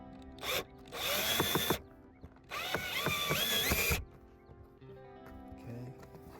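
A power drill whirs in two sustained bursts, its pitch rising as it drives a screw into a front lip on a 10th-generation Honda Civic Sport, with brief clicks and handling noise between and after.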